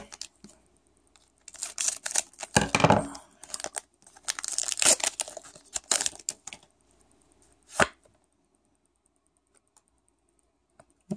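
A Pokémon Cosmic Eclipse booster pack torn open with crinkling, ripping foil, coming in bursts of close rustling and tearing and then a few short crackles before going quiet.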